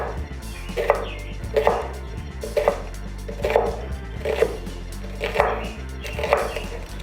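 Knife slicing onions into long slices on a cutting board, evenly spaced crisp chops about once a second over a low steady hum.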